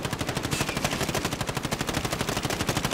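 Call of Duty: Modern Warfare gunfire: a sustained burst of rapid automatic shots, loud and close. The shots sound in an even, fast rhythm for the whole three seconds with no talk.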